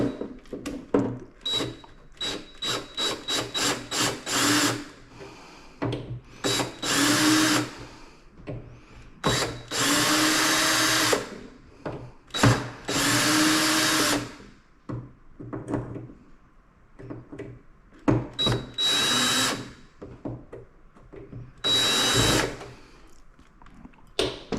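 A cordless power drill loosens screws on a Harley-Davidson King Tour Pack in repeated close bursts, some short and clustered, others held for a second or two, separated by pauses with small handling clicks.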